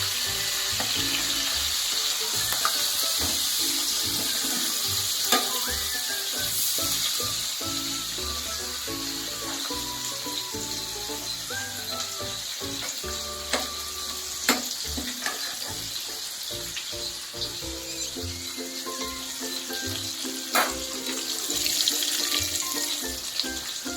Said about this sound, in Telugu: సో ఇప్పుడు ఎండు చేపల్ని బాగా ఫ్రై చేసుకోవాలి.